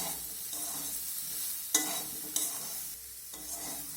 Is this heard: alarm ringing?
no